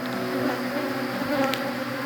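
Agitated honeybees buzz around a hive in a continuous, droning hum, several insects close by with steady pitch and slight swells in loudness.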